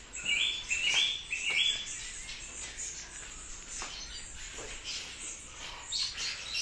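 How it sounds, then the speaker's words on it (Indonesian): Orange-headed thrush calls in bright, repeated whistled phrases, loudest early and again near the end, over a soft background hiss. "Anis merah, Bos. Anis merah."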